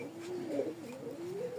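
Crested, feather-footed fancy flying pigeons at a sale give a single soft, rolling coo, close by and alone for under two seconds.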